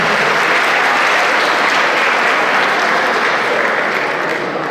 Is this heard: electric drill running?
no